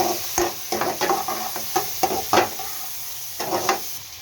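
Pieces of rohu fish fry in oil with onion and turmeric while a spatula stirs and scrapes the pan in uneven bursts over a soft, continuous sizzle, close by and without talk.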